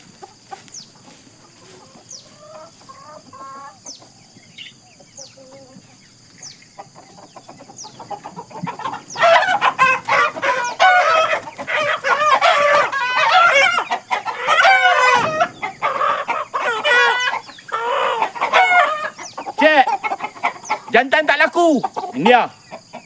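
Roosters on a farm, heard first as sparse clucks and calls, then a busy stretch of loud crowing and clucking from several birds close by, with someone talking at times.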